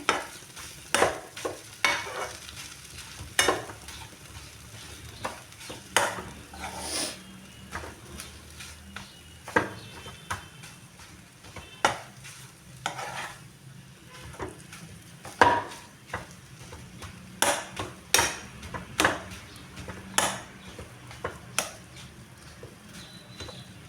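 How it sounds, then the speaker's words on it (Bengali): A carrot and potato snack is stirred and mixed in a pan with a utensil, giving repeated sharp scraping clicks over a soft, low sizzle, irregular in rhythm and close by. "দেখো এবার আমি এইভাবে ভালো করে মিশিয়ে নিচ্ছি"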